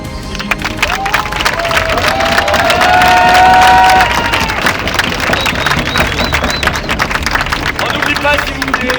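A festival crowd claps and cheers loudly and continuously, with whistles and shouts rising over the dense applause, and a voice talking through it.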